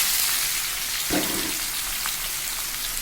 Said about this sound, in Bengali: পাঁচফোড়ন সম্বরা দিলাম